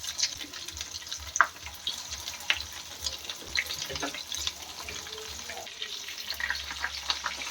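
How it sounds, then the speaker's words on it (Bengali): Chicken jali kabab fries in oil with a soft, continuous crackle and scattered pops, moderately faint, with occasional clinks and scrapes as pieces are turned. "এবারে বাকিগুলো আমি ভেজে নিচ্ছি"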